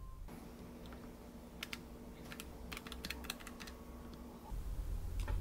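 Rapid mechanical keystrokes from a PERIBOARD-835 keyboard playing back a macro, a quick burst of crisp clicks in clusters over a faint steady hum, fairly quiet and without voices.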